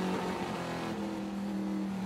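Trans Am race car engine at Sonoma Raceway, a loud sustained engine roar with shifting pitch as the car drives past the track-side microphone, with no talk over it.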